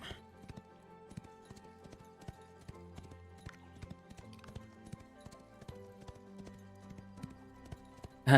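Horse hooves clip-clop in a steady, even trot on a ridden mount in the fantasy game Ashes of Creation, close and continuous throughout, with no talking.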